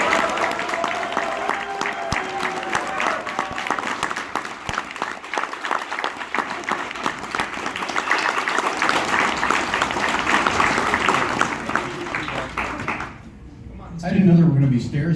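An audience at the Svengoolie 40th anniversary event at Flashback Weekend in Chicago, 2019, bursts into dense, sustained clapping for about thirteen seconds before it quickly dies away.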